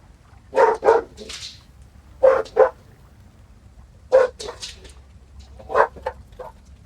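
Dog barking in the video game Vampyr, set on the streets of London: several sharp barks in pairs and singles, moderately loud over a low ambient hum, with no talking.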